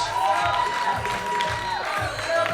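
Audience at a men's physique bodybuilding show applauding and cheering, a moderate round of clapping and whoops from a crowd, somewhat distant with some voices mixed in.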